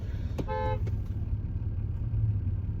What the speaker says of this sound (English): What are you honking at me for, dude?